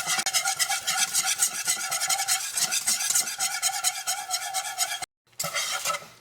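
A spoon scrapes continuously around a pan of cauliflower gratin mixture over medium heat, with rhythmic rasping strokes and a soft sizzle, close and loud, breaking off briefly near the end before resuming.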